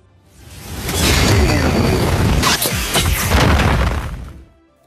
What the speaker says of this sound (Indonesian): terdengarlah suara dentuman yang sangat keras